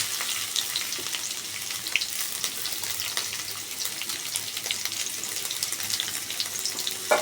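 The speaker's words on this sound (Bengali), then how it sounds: "এবার আমরা এর মধ্যে ছেড়ে দিয়েছি কুচি করে কেটে রাখা পেঁয়াজ" Chopped onion and fried potato sizzle together in hot oil, a steady close crackling hiss with faint stirring throughout.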